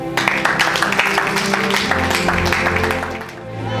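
A church congregation claps and cheers in praise, a dense, steady wash of applause from a large crowd, with voices mixed in and a faint musical tone underneath, fading slightly at the end.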